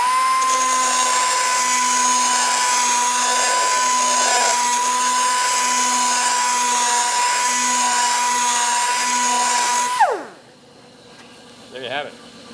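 A high-pitched grinder whines steadily, blending a carbide tip onto a tool body, for about ten seconds before spinning down abruptly; a short burst of voice follows in the quiet afterward.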